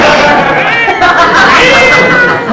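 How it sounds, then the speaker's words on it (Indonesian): Two male cats fight in a loud, continuous yowling and caterwauling brawl, close by, with harsh overlapping cries filling the whole stretch. "Terus tuh dua kucing laki jadinya berantem nih."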